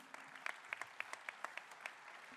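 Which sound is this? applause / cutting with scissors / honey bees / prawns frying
applause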